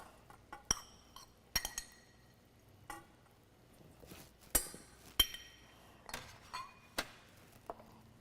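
Spoon clinking against a bowl of cooked brown rice: about eight sharp, bright clinks at irregular intervals, close and clear, with quiet pauses between and no talking.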